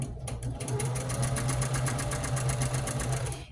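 A sewing machine stitching a quilt seam just off the ditch, a fast, even run of needle strokes with a steady motor hum, close and alone, ending with a back stitch.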